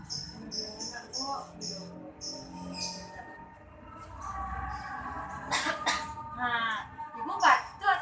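Several short, harsh coughs from a woman with pulmonary tuberculosis burst out in the middle of the clip, close by, with people talking before and after them.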